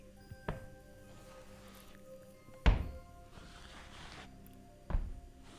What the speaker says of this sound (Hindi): जैसे कोई भारी पैरों को गीली ज़मीन पर घसीट कर चल रहा था।